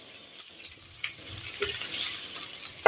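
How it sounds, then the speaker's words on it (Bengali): Kohlrabi pieces frying in a pan while being stirred, a steady soft sizzle with occasional scraping stir sounds, close and alone with no talking. "আমি সিমে করে ওলকপিগুলোকে সুন্দর করে ভাজা ভাজা করে নিয়েছি।"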